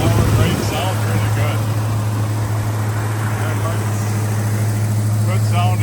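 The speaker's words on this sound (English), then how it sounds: "I got the idles a little high." A 1963 Ford Galaxie 500 XL with a rebuilt engine and dual exhaust idles a little high, giving a steady, loud, continuous engine drone with someone talking over it.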